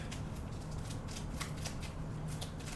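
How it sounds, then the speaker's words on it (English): A deck of event cards for a prototype board game being shuffled on a table, a quick run of soft riffling flutters and snaps, close and fairly quiet, with no talking. "we're going to shuffle our event deck."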